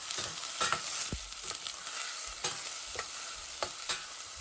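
Tomato upma is stirred in a frying pan, a spoon scraping and knocking at intervals over a constant, close sizzle.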